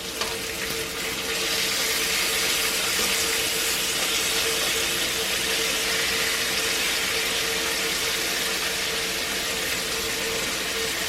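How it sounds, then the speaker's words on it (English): Steady, dense sizzling fills the whole stretch, a constant crackling hiss of bacon frying in a hot cast iron pan, close by with no voices. "I got some bacon frying"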